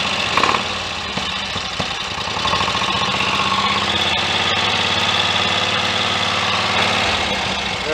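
A Royal Enfield 1000 cc Model K motorcycle engine idles roughly, then is revved up into a louder, sustained drone with a steady mechanical rumble, heard close by without talking.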